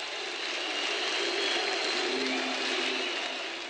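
A football stadium crowd applauds a young player who is being substituted, a steady wash of clapping and cheering that sounds broad and distant, with no clear voices.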